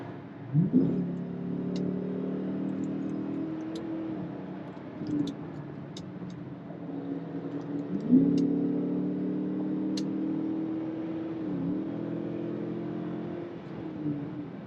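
A Chrysler 300S with the 5.7 Hemi V8, Carven R exhaust and mid-muffler delete accelerates, its droning engine note rising and falling through several pulls, with a stronger surge partway through, heard from inside the car.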